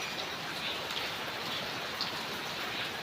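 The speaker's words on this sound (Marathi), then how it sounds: "इकडे आत्तासुद्धा पाऊस लागत आहे" Steady rain falling in a village, a soft even hiss of drops on surfaces from start to finish, fairly quiet and without voices.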